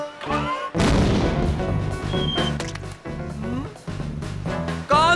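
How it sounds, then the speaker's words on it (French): A cartoon guano cannon firing in an animated rat comedy: a run of loud, punchy blasts and crashes mixed with squeaky cartoon effects and music, busy and close. "Un canon à guano."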